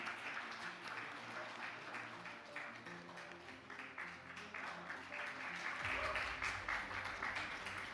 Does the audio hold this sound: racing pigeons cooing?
no